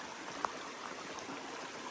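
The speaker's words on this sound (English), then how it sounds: "Right by the creek." Brown Mountain Creek on the Appalachian Trail, heard from right beside the bank: a constant, fairly quiet broadband rush of flowing water with a faint tick near the start, and no voices.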